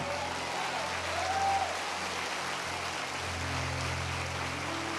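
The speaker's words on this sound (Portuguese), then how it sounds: "Pega no seu espírito e aplaude com força." A church congregation claps during a sermon, a faint, even wash of applause that sounds distant, with a low steady hum running underneath.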